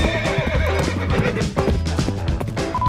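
A horse in the Roblox game Brookhaven neighs loudly, a long wavering whinny that fills the moment with no talk over it.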